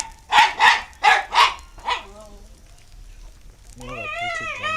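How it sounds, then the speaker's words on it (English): A dog named Ivan lets out five quick, loud barks close by in a short rapid run, then falls quiet before a person starts talking. "You're a pretty dramatic dog."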